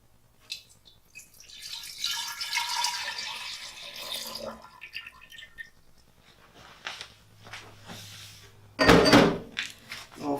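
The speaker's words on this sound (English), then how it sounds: "We'll fill it almost all the way up, but not quite, with cold water." Cold water runs from a tap into a tea jug for kombucha, a hissing pour rising and fading, followed by scattered clinks, drips and a sharp knock near the end.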